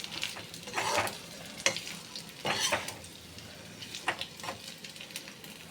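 Amla and garlic being stir-fried in a pan for a thokku: a soft background sizzle with intermittent bursts of scraping and stirring, moderately quiet and close.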